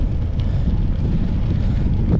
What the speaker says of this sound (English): Wind at my face.